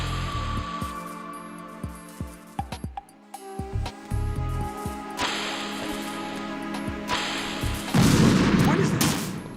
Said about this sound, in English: It's a fucking loud explosion, so get away from the vents.